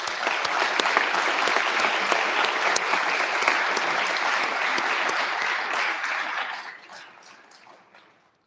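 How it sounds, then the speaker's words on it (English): A large crowd applauds teachers at the Flint Regional 2022 Science and Engineering Fair. The clapping is loud, dense and continuous, then thins and fades away over the last couple of seconds. "So a round of applause for teachers."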